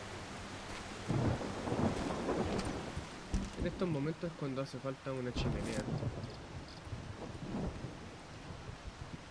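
Thunderstorm with rain in the Solarpunk video game: steady rain hiss under repeated rolling thunder rumbles and cracks, with someone talking over it.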